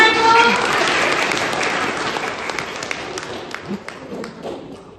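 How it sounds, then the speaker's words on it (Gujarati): Applause and clapping from a village gathering for the woman sarpanch at an Anganwadi event, a dense burst that starts loud and slowly thins out over about five seconds, with voices mixed in. "તાળી પાડો"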